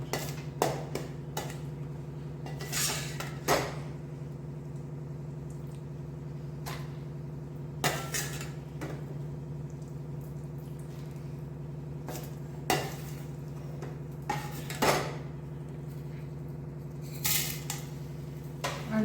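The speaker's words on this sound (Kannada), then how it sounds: "ತುಪ್ಪ ಹಾಕಿ ಆದಾಗ ಡ್ರೈ ಫ್ರೂಟ್ಸ್ ಎಲ್ಲ ಹುರ್ಕೊಳ್ಳಿ" Dry fruits fry in ghee in a pan for peanut ladoo, with scattered close clinks and scrapes of a spoon stirring against the metal over a steady low hum.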